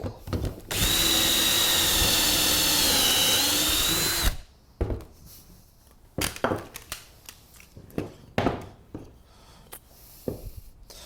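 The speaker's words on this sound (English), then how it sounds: "Clamp it, and then drill." A cordless drill whines steadily for a few seconds as it bores into wood, then stops, followed by scattered knocks and handling clatter.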